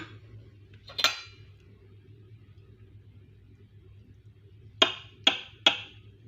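A knife scrapes through a baked chicken-fillet and mozzarella meat boat with one sharp stroke, then three quick cuts clicking against the plate over a low hum.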